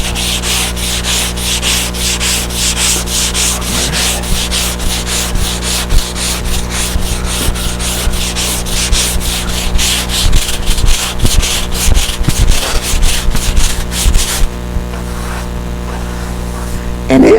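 A welded metal roof is sanded with a power sander, a loud continuous rasping buzz with rapid pulsing texture that runs for most of the stretch before dropping off near the end.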